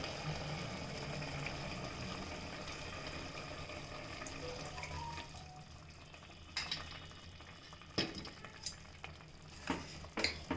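Tamarind pulp being stirred into a red amaranth curry (pulusu) in a pan, with a steady low simmering hiss throughout and a few sharp utensil scrapes and clinks in the second half.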